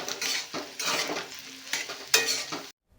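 Potatoes with poppy seed paste and spices are stirred in a hot pan for Bengali aloo posto: repeated close scraping strokes over a light sizzle, ending abruptly, with no voices.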